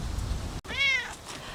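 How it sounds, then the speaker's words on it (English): A cat meows once in a garden, a single clear rising-and-falling harmonic cry near the microphone over a low outdoor background rumble. "this kitty is everywhere"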